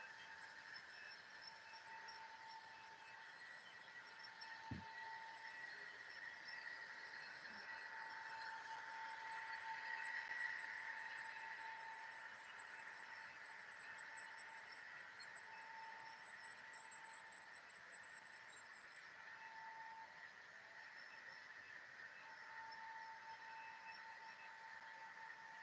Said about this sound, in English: That Rapido locomotive is having some consistency issues.